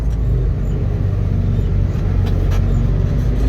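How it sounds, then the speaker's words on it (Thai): A dump truck engine holds around 1500 rpm while climbing a slope, a loud steady low rumble with a constant drone and no talk. "เดี๋ยวเราจะรอบกันที่พันห้าครับผมลองขึ้นเนินดู"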